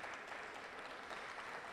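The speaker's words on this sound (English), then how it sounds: "Can we get a round of applause for La Ti Da?" An audience at a documentary premiere event applauds steadily, a dense even wash of clapping at moderate distance.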